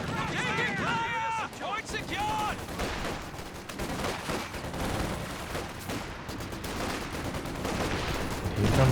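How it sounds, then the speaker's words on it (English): Infantry gunfire rattles in continuous bursts in the Company of Heroes 2 strategy game, with dense battle noise and a commentator's voice running over it throughout. "Here comes some infantry support gunfire."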